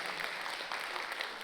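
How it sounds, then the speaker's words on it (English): An audience in a hall applauding, a dense, steady wash of clapping hands that is fairly faint and brief. "Can we clap everyone in the hall?"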